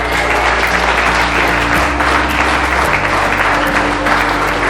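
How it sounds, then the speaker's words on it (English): Wedding guests in a chapel break into loud, sustained applause, a dense steady wash of clapping close by that carries unbroken from start to finish. "I don't know why you're clapping."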